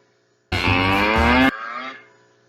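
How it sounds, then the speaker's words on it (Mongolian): A single loud, close cow moo lasting about a second, followed by a quieter trailing tail, with silence before it. "Үхэр мөөрч байна шүү дээ, тийм ээ?"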